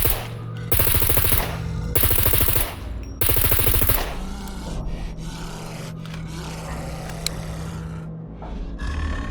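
Rapid automatic rifle fire in the game Scum erupts in three loud, dense bursts separated by short pauses, then gives way to quieter rustling and scraping movement sounds.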